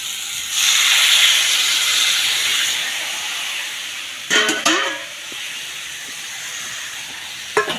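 Water is poured into a hot pan of cooked-down Bengali curry and hisses loudly as steam for several seconds. The hiss fades, and a few clattering clinks of utensils follow.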